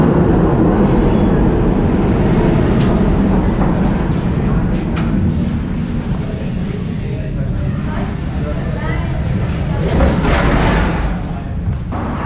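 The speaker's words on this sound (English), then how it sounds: "Oh, we missed the train. Look how old school this train looks." Old train departing from a station in Budapest, heard as a loud, steady rumble of wheels and carriages with occasional thumps and clanks. There is no clear talk over it.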